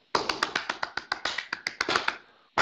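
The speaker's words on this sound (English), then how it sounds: "You got a slow clap from the background." A lone pair of hands claps steadily in the background, about a dozen crisp, evenly spaced claps at a brisk, even pace, with no voices.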